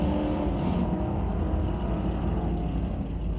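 A 1971 Ford Pinto with a big engine drag racing down the strip at an old-time drags event, a steady loud engine roar heard from a distance without talk.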